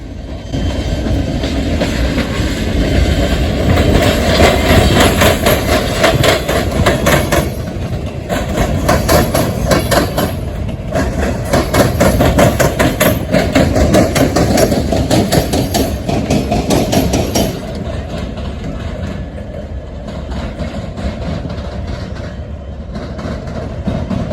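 A train rolls slowly nearby as locomotives back it across rail diamonds, its wheels banging in repeated heavy clanks and rhythmic clatter over the crossings, with a low engine rumble throughout.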